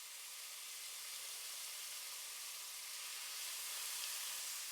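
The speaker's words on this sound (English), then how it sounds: "Add the marinated beef cubes to the oil one by one and allow them to sizzle in their juices" A steady, bright hiss of marinated beef cubes sizzling in hot oil, continuous and close, with no talking.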